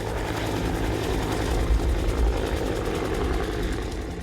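A firefighting helicopter carrying a water bucket at a wildfire flies by, its steady rotor chop and engine roar loud and continuous throughout, with a slight rhythmic beat.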